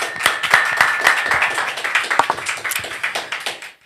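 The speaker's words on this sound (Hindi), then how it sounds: "एक अच्छी ताली के साथ" An audience at a Hindi religious gathering claps together, a dense run of quick uneven hand claps that holds steady for several seconds before tapering off.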